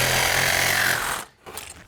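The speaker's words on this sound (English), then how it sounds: "we're going to take our Sawzall, so we're going to cut right down to the brick" A Sawzall reciprocating saw cuts down toward the brick to remove a fixed window panel, giving a loud, harsh buzzing roar for about a second before it stops abruptly, followed by a few faint clunks.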